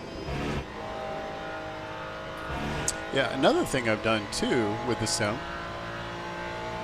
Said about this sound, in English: Ferrari sounds really good.